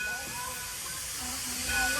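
A continuous hiss and low rumble of a train pulling away, with a faint whistle-like tone near the end.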